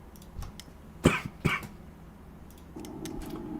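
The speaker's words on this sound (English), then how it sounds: "I apologize for coughing." A man coughs twice in quick succession, sharp and close, against a quiet room background with faint ticking and a low hum rising toward the end.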